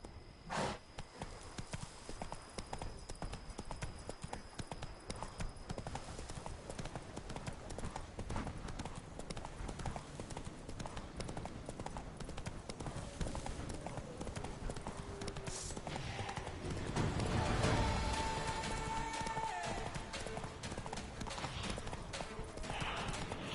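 Horse hooves clip-clop steadily in The Witcher 3, a continuous gait over a busy game soundscape with occasional louder swells.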